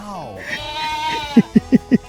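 Goats on a farm near a campsite bleat in a long wavering call, then a series of short, loud, evenly spaced bleats follow, close to the microphone.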